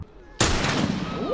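A single sharp gunshot from The Last of Us video game cracks suddenly out of near silence and then rings into a sustained loud blast and rumble; a faint voice is present.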